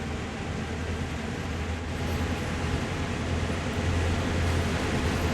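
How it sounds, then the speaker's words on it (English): A diesel freight locomotive on a CN line in a train simulator game rumbles steadily with a deep low engine drone and broad mechanical noise, continuous and moderately loud without any talking. "I seriously think this train sounds really, like the engine sounds really good"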